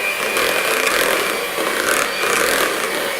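Cheesecake batter is beaten after the eggs go in, giving a loud, steady whirring and churning close by with slight swells, and no voices.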